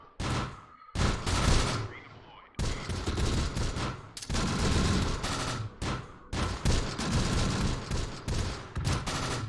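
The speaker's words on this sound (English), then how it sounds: "Let's get this machine gun up here now" Machine gun fire in the wartime strategy game Close Combat: The Bloody First, with long loud bursts of rapid shots broken by short pauses, sounding near and continuous.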